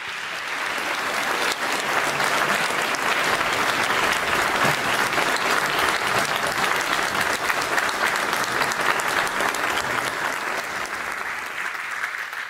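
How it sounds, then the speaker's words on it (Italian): Sustained applause from a large conference audience at CICAP Fest 2017, steady and dense for the whole stretch, gradually easing toward the end. "invito ad unirvi a me a applaudire Silvio Garatini"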